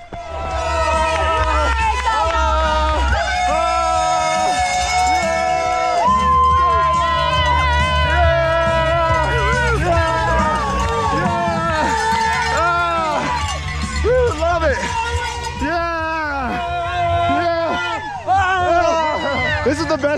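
Spectators at a marathon cheer station in Boulder shout and cheer loudly for passing runners, a dense crowd of whoops, calls and chanting voices close by, with a cowbell clanking amid the din and music faintly underneath.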